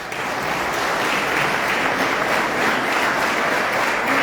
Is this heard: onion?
no